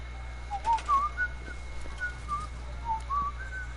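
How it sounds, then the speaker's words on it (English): A person whistles into a live-stream microphone during a construction session, a wavering tune of short rising and falling phrases over a low steady hum, close and clear with no talking. "You're like whistling on the mic while we're in live stream"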